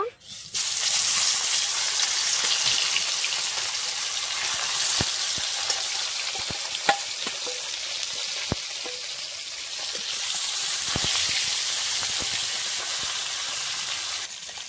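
Bhola fish fries in hot oil, a continuous bright hiss with occasional sharp pops and crackles breaking through.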